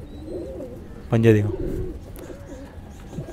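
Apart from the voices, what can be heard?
pigeons cooing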